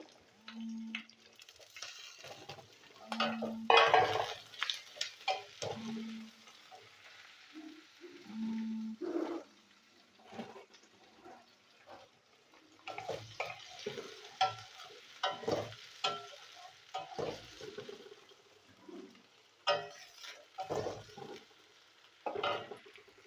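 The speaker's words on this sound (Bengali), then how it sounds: "ছোট ছোট 3টে আলু আছে, আমি দিয়ে দিচ্ছি। ভেজে নেবো আগে।" Three small potatoes go into hot oil and fry with a quiet, steady sizzle. Irregular stirs and scrapes of a spoon sound close by in a calm kitchen, with some faint low knocks and hums in between.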